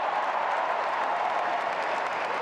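Tennis crowd applauding an ace by Taylor Fritz against Jannik Sinner in the 2024 US Open final: dense, steady clapping that fills the stadium, loud and continuous with no voices.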